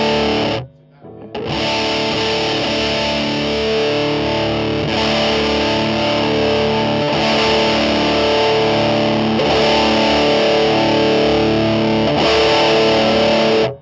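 Electric guitar through a modded Muff fuzz pedal with boosted mids, thick saturated chords ringing out loud and sustained, with brief breaks between strums and no voices.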